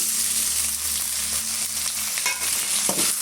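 Garlic and two medium tomatoes sautéing in a pan for a garlic kulambu, a steady close sizzle and frying hiss with a few soft stirring scrapes and clinks near the end, no voices.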